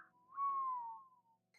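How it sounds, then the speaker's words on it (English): A character whistles in the Tiny Bunny horror game, a single clear, sustained whistle that slides gently downward in pitch before fading, heard alone in a quiet setting. "Biasha whistled."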